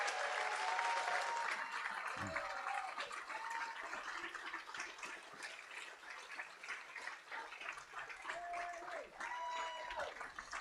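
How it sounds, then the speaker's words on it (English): A crowd applauds steadily throughout at a welcome dinner, dense clapping filling the room, with a few brief chirpy tones rising over it. "let's give them a round of applause"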